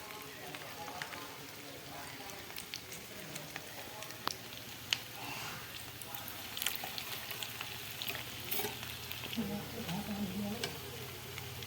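Cabbage chops fry in hot oil, a faint, steady sizzle with scattered crackles and occasional stirring clinks, under quiet talk.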